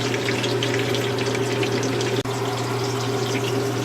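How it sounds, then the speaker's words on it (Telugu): Ghee is poured into a pan while making chicken masala curry, a loud, steady liquid rush with one brief dropout midway and no talking. "నెయ్యి వేసాను ఇందులోనే."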